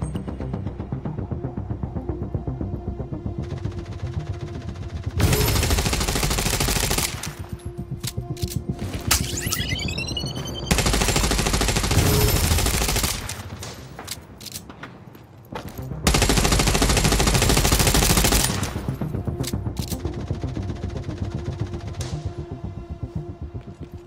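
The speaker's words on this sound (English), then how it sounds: "You must learn to anticipate the time windows when the turret stops firing." Hostile turret in The Division Resurgence firing in three long sustained bursts of loud rapid machine-gun fire, separated by quieter stretches of steady battle ambience with faint mechanical clicks.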